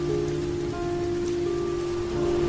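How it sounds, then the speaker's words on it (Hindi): Heavy rain pours steadily on a surface at night on a lonely jungle road, a continuous dense hiss with a low drone beneath it, no voices. "बारिश तेज हो गई"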